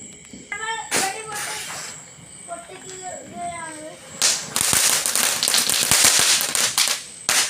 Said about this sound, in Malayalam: കിറ്റ്കാറ്റ് ആയിട്ട് കറുമുറു പൊട്ടുന്നുണ്ട്